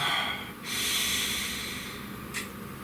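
A single deep breath drawn in close to the microphone, a long airy inhale lasting over a second, followed by a softer exhale and a brief sniff near the end, with no talking.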